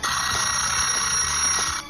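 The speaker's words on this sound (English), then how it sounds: "That's the alarm going off." An alarm rings without a break, a dense, bright metallic clangor like a bell alarm clock, loud and close and filling the whole stretch, with no talk.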